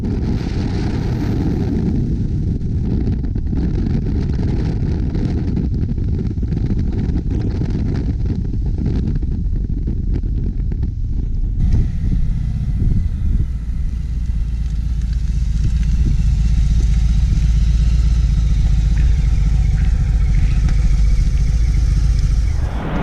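A 2018 Harley-Davidson Fat Boy motorcycle cruises on a freeway, its engine a steady low rumble mixed with heavy wind rush, the tone thickening and growing louder partway through as the bike pulls harder.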